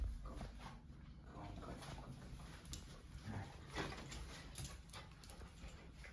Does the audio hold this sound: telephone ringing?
no